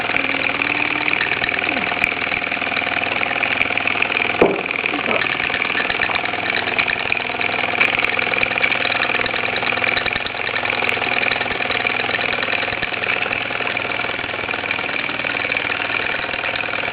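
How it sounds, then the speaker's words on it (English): Two post-war Luton Bowman model steam engines, the PW201 and PW202, run in live steam with a continuous even hiss and hum, broken by a few sharp clicks and knocks. "There you have it, two rather nice post-war engines."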